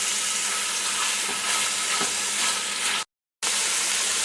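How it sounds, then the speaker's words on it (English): Minced pork fries in oil in a frying pan, a loud continuous sizzle with faint stirring scrapes, broken by a short silent cut before the sizzle resumes. "So fry up the pork till it looks nearly cooked."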